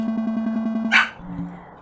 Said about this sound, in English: my dog barked at the exact moment I went down the dark slide